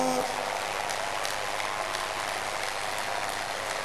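A crowd at a church crusade claps steadily in a dense, sustained burst of applause, filling the space evenly without any voices standing out.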